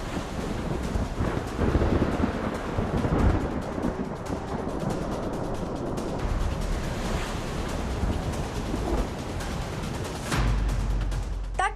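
Strong, steady wind from Cyclone Yaas roars across the microphone with broadband rushing noise, like a storm lashing the coast, continuous and loud throughout.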